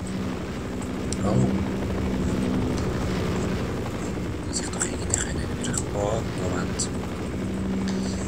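A helicopter hovers overhead in the video game Half-Life, a steady low rotor drone that holds throughout while a voice talks quietly over it.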